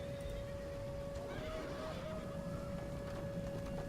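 Horses neigh as Scythian horse archers charge on a video game battlefield, a whinny rising out of a dense, constant rumble of battle noise with a steady tone underneath.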